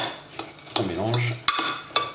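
Crushed biscuit crumbs stirred with 30 g of melted butter in a dish, with a few sharp clinks of utensil against the dish over soft scraping, close and moderately quiet.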